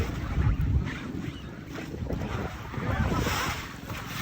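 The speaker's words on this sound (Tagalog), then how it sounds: "Hindi, malakas ng alon na." Strong sea waves and gusting wind surround a small boat without outriggers, with water sloshing and rumbling up close and wind buffeting the microphone in swells.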